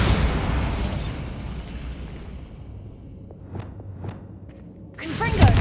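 A Bombarda spell explodes in the Hogwarts Legacy video game with a loud, booming blast that rumbles and fades, followed by a few sharp popping bursts and a second heavy impact near the end, with a voice heard over it.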